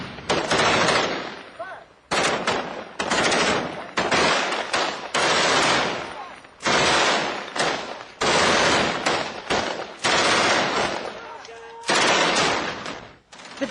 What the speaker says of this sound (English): The heavy fire keeps the insurgents' heads down.